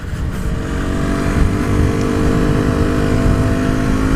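KTM Duke 125 motorcycle being ridden, its engine droning loud and close with steady revs and no talking.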